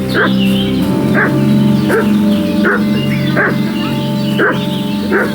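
A dog barks in Kingdom Come Deliverance 2, sharp single barks repeating at roughly even intervals over a low steady ambient drone, loud and fairly close.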